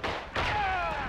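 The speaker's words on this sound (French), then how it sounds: "Il y a une grenade." A grenade blast in the WWI shooter Verdun: a short, heavy thud hits about a third of the way in, followed by a sustained roar and rumble of battlefield noise that keeps going to the end.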